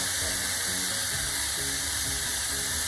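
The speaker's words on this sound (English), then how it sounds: "We have the burger browning up right now." Ground beef sizzling and frying as it browns in a pan, a steady close hiss with faint stirring scrapes, no talking.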